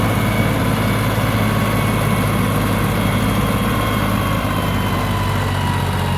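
Small tractor engine running steadily at a building-plot worksite, a loud continuous low idle drone with constant vibration and no change in pace, close by and with no voices.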